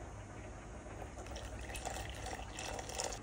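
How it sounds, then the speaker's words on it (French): Boiling water is poured into a small instant chili con carne cup, a soft continuous splashing fill that swells slightly toward the end, faint and without talk. "Je vais mettre 90 d'eau bouillante."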